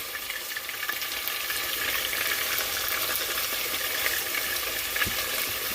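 Chunks of stew beef browning in a hot pan for Jamaican brown stew beef, a steady close sizzle and crackle of frying that runs throughout without pause.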